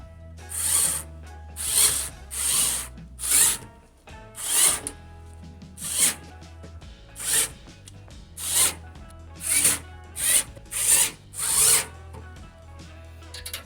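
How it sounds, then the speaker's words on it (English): An electric screwdriver drives screws into a motherboard during a dual Socket 370 Pentium III build, giving about a dozen short buzzing bursts with brief pauses between them, close and fairly clear, with no talking. "I let the screwdriver slip from my hands when I'm tightening these down."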